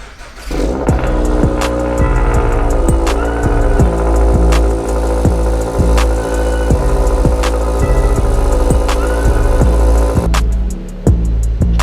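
A Toyota GR86 fitted with an AWE Touring Edition catback exhaust, running loud and close with a deep, steady drone, its pitch rising and falling under light revving before it settles back near the end.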